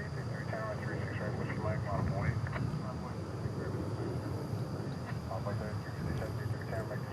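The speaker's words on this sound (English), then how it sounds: "Next departure, Envoy 3723 to Chihuahua." An Envoy regional jet departing DFW airport at night, a steady broad engine roar filling the whole stretch at moderate distance, with people talking over it.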